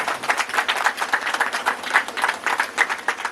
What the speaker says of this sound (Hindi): उनके लिए जोरदार ताली का अनुरोध करता हूँ